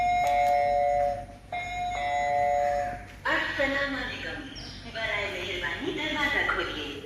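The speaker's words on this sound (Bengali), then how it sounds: "কি কলিং বেল নিয়ে আসছো এটা?" A doorbell that was being repaired chimes several times with bright, ringing tones, close by, while people talk over and around it.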